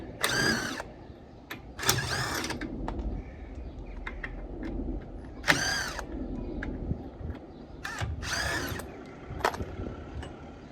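An air impact gun works on the wheel hub of a Ford Escort with a worn wheel bearing, firing several loud, close, short rattling bursts separated by quieter gaps, with no talking.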